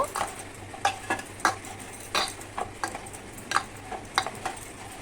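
Dough for katkati, a Bengali fair sweet, is kneaded by hand, giving soft, irregular slaps and sticky squishes, quiet and close, with no talking.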